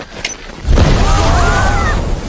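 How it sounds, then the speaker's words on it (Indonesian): A sudden, loud, deep blast bursts out and rolls on as a heavy, sustained rumble. "Tiba-tiba terjadi ledakan di dekat tim Vijay berada"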